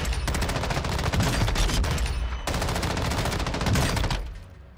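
Sustained automatic fire from an M13B assault rifle in the game Warzone, loud and close. Two long bursts of rapid shots are split by a brief pause, then cut off and fade at the end.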